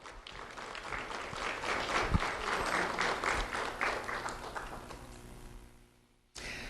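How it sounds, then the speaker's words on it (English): An audience at a community recognition event claps for an honoree, sustained applause that swells and gradually fades out before a brief return of room sound at the end. "Let's have a round of applause for Patrick Chester."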